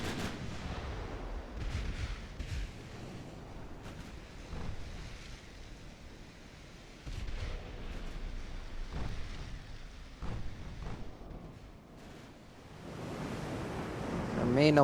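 Heavy 11-inch naval guns of an old 1890s-hull battleship fire in the naval game Ultimate Admiral: Dreadnoughts, a series of deep booming blasts over a steady roar of sea and wind.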